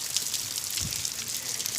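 A steady, hissing wash of heavy rain falling nearby, continuous and even throughout.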